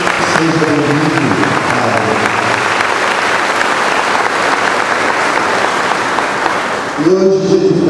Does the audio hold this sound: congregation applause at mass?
yes